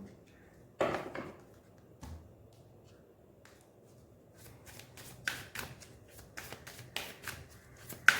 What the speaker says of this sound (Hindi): मैं इधर से भी कार्ड्स निकाल लेती हूँ